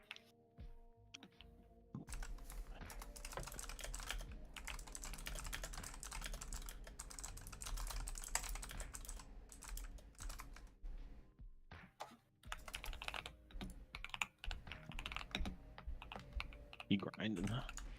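Clacking computer keyboard keys tapped in uneven bursts close to the microphone, with short pauses between runs and a quiet voice now and then underneath.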